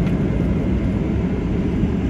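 A steady, loud cabin roar inside an airliner taxiing after landing at Saga Airport. The engine and rolling noise hold constant and unbroken, with no voices.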